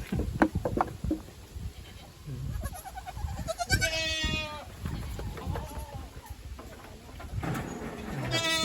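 Goats in a farm livestock pen with newborn kids, bleating in several short wavering calls at moderate distance amid low background rustle.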